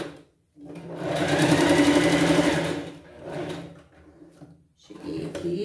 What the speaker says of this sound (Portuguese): Eu costurando, ó.